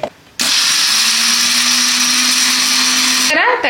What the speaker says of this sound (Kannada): ಇದನ್ನ ಅಷ್ಟೇ ತರಿಯಾಗಿ ಪೌಡರ್ ಮಾಡ್ಕೋಬೇಕು